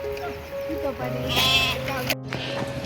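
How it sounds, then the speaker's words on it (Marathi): Sheep and goats of a large roaming flock bleat repeatedly nearby by a river, several overlapping calls rising and falling, with people talking underneath. "हे बघा इकडे भरपूर मेंढ्या बकऱ्या आल्यात."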